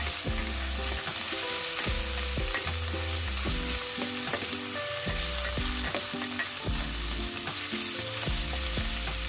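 White onion fries in a pan for squid adobo, giving a continuous bright sizzle over rhythmic background music.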